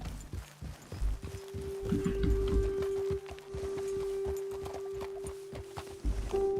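Horse hooves clip-clopping at a walking pace in Red Dead Redemption 2 as riders halt to dismount, steady repeated hoof beats near and moderately loud over a low ambient game hum with a sustained tone.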